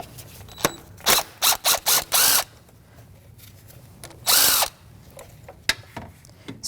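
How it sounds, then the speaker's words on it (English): Power tool driving a 10mm socket on the ignition coil mounting screw of a 2016-2025 Chevrolet Malibu 1.5L four-cylinder, heard as a series of short whirring bursts, loud and close, followed by a longer burst and a few small clicks. "that mounting screw right there is a 10mm socket. We're going to take that mounting screw right off."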